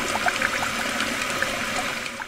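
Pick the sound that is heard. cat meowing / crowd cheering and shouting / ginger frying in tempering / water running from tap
water running from tap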